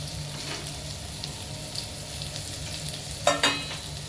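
Tomato pieces frying with turmeric in a pan, giving a steady low sizzle with faint crackle throughout and a couple of brief louder stirring scrapes near the end.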